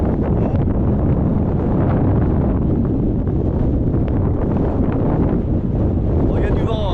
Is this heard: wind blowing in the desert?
yes